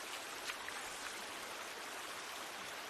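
Waterfall in the Rocket League video game, a steady broadband rush of falling water, soft and continuous with no voices over it.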